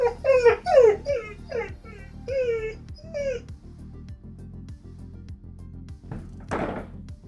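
A puppy stuck behind a closed door whimpers in a run of high, rising cries, then falls quiet before a single sharp knock or thunk near the end.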